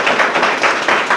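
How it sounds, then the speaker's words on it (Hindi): Children clap together at a village government school in Para Kheda, a loud, dense patter of hands swelling in uneven bursts, close and continuous with no talk over it. "भैया ताली तो बजाओ"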